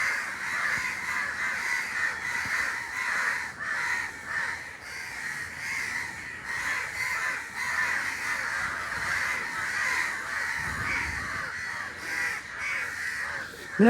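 Crows caw repeatedly and fairly close, their calls overlapping in a steady stream over a faint outdoor background, with no talking.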